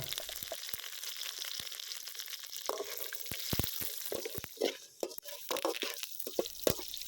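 Fennel seeds and chillies fry in hot oil in a kadai, a steady soft sizzle and crackle with scattered pops and stirring clinks, close and fairly quiet, with no talk.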